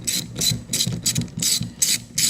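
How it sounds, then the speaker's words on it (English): A ratchet backs out the last bolt on the fuel sending unit of a 1985 Chevy Corvette, making close, rhythmic bursts of clicking strokes with short pauses between them. "All right, here goes the last bolt for the sending unit."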